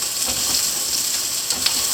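Garlic sizzles in olive oil in a steady, close hiss with faint crackles, and no voices over it.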